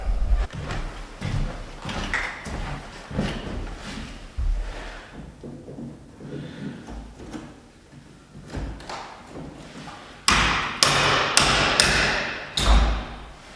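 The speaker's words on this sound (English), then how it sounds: "I'll just take the trim removal tool, see if I can get under there, and pry that out." Door trim being pried off a nailed-in door frame with a trim removal tool, a run of close knocks, thuds and scraping creaks, ending in several sharp loud cracks as the trim pops free.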